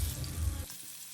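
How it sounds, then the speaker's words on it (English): Whole pink perch fish frying in hot oil in a pan for a masala fry, a dense close sizzle that cuts off abruptly partway through, with no talking. "we'll fry the fish until they are well browned from both the sides"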